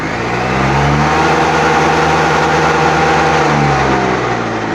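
A Honda BS6 motorcycle with 42,000 km and a low-pickup problem fires up and revs, its loud, close engine note holding steady and then swelling with the throttle held open.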